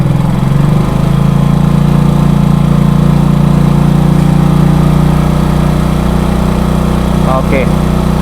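Suzuki Shogun motorcycle with a Tiger regulator-rectifier fitted, its engine running loud and steady with a constant buzzing drone close by, rising slightly as the throttle is opened, with a short chirp near the end.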